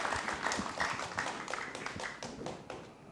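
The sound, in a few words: audience applause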